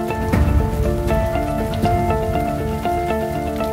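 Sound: heavy rain pouring in the desert

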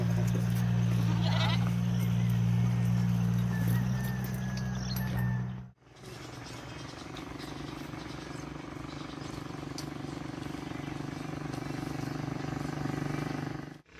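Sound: goats bleating, baby goats and mother goat

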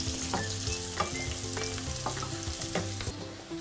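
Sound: red onions and mushrooms frying with olive oil and rosemary

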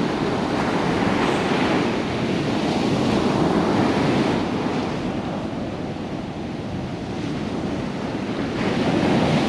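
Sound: ocean waves at Baker Beach, San Francisco

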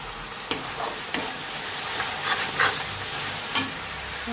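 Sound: masala spices being roasted and stirred in a pan

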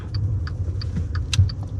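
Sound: thumping noise from a Maserati car while driving

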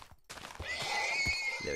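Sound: baby horse neighing in Minecraft video game

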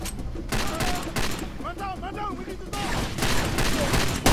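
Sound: gunfire in the video game Far Cry 2

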